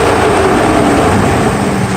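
Loud, steady broadband roar of a Mercedes SL600's engine cooling fan with its fan clutch fully engaged, running flat out, a constant whooshing drone with no breaks.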